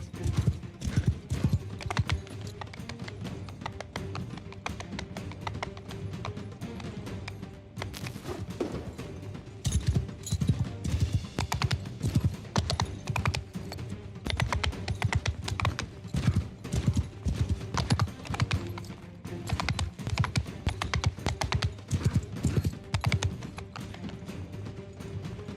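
Horse hooves beat a rapid, steady clip-clop while riding in a modded fantasy video game, loud and close, continuing for the whole stretch with brief pauses and occasional louder clatters.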